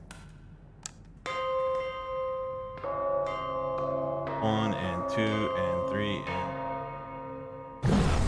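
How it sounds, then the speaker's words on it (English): Big bells from a rhythm puzzle in the game Darq ring in a steady beat, deep resonant tolls layered with smaller chiming tones and a few sharp ticks, with brief quiet talk near the start. "Make sure there's 4 beats between the big bells"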